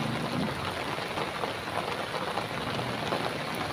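Heavy rain pouring down in a steady, dense hiss that holds evenly throughout, with no voices, as a storm passes.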